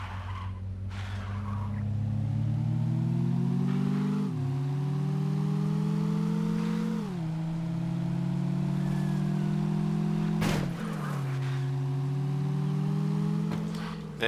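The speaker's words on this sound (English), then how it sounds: "This is the new rally car." A reskinned rally car in the zombie survival game State of Decay revs loudly and steadily, its engine pitch climbing in long sweeps and dropping sharply at gear changes, with tyres squealing throughout and no talk over it.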